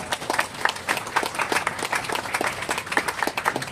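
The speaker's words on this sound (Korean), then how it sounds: "우리 박수로 환영하겠습니다." An audience at a church memorial hall opening service claps steadily and warmly for several seconds, dense overlapping hand claps filling the room without pause.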